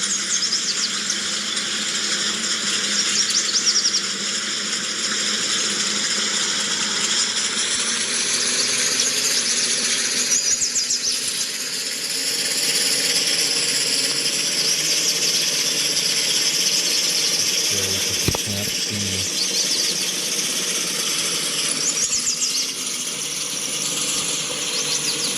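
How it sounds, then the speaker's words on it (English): A vehicle engine in the driving game RTHD runs at light throttle in second gear on a rough surface, giving a steady, loud drone with a high whine throughout and a brief low thump late on. "run light throttle in second gear"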